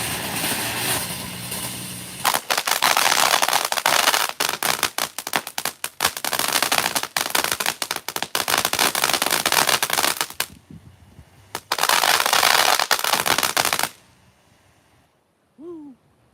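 Firecrackers and fireworks crackle in rapid, dense bursts for over ten seconds, a short break and then a second volley, outdoors in strong hurricane wind before everything drops to near quiet.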